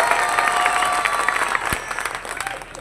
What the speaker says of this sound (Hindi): ताली बजा के मेरी बात की तारीफ करो